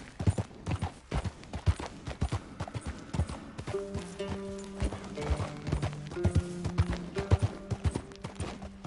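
Hooves of a ridden horse clip-clop in a quick, even rhythm close by, with a few tonal bursts that sound like a whinny or neighing partway through.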